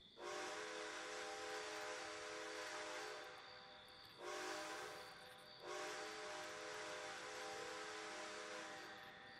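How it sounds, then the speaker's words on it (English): A distant train horn sounds three long, sustained chord-like blasts separated by short gaps, faint and steady with no voices. "There's something about a train horn in the distance, especially when heard at night, that makes me feel alone"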